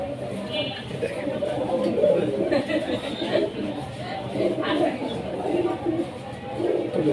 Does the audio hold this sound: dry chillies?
no